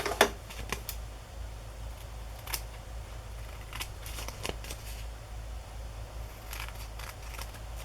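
Scissors snip and trim wallpaper paper for a collage, giving a few quiet, scattered crisp cuts over a faint background hum, with no talking.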